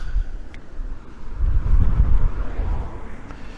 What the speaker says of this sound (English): Very windy up here, it always is.